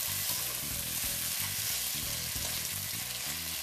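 Thin beef slices fry in a pan with a dense, continuous sizzle and crackle, close and steady throughout, with no one speaking.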